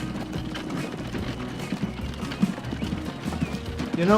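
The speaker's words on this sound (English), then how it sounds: "Another set of horse and cart is en route" Horse-drawn cart hooves clip-clop steadily at moderate distance in the Transport Fever game set in the USA, a loose repeating rhythm over a busy layer of ambient game noise and music.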